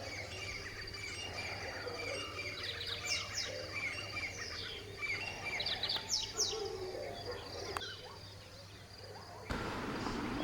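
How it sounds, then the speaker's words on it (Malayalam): Several birds chirp and call in a quiet morning setting near a Tibetan village in Karnataka, with bright twittering phrases over a steady low insect drone; the scene ends with a sudden burst of broader noise. "അടുത്ത ദിവസം രാവിലെ കിളികളുടെ ശബ്ദം കേട്ടാണ് ഞങ്ങൾ എഴുന്നേറ്റത്."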